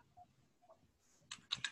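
Computer keyboard keys clicking faintly and close up, a few soft isolated taps followed by a quicker cluster of sharper clacks at the end, like an enter key pressed in a quiet room.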